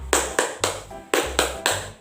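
Hand claps in a primary-school classroom clap game, six sharp claps in two groups of three with a steady beat, fairly close and clear, with no talking over them.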